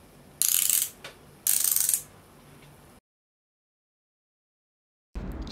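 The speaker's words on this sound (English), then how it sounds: "Press and turn the two cinch devices to tighten the upper brace to a desired snug fit." Two bursts of rapid ratcheting clicks as the cinch devices on an OA knee brace are pressed and turned to tighten the upper brace, close and crisp, followed by silence and a brief mechanical rustle.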